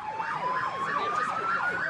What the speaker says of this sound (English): Getting ambulances to them was a difficult job.